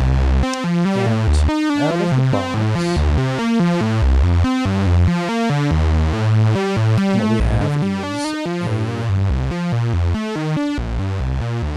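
A dense, buzzing drone from the swarm output of a WMD Legion modular synthesizer, many detuned oscillators, loud and continuous, shifting through pulsing chord-like clusters with a gritty, distorted edge.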